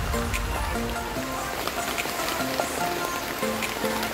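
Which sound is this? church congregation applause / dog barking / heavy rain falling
heavy rain falling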